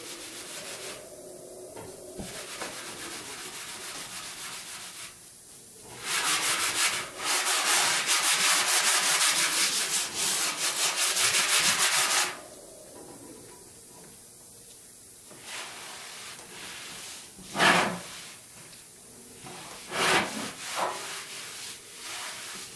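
Regular steel wool scrubs hard against the paint of a classic car, with bursts of loud, close rubbing and sanding noise broken by quieter pauses and a few sharp swipes near the end.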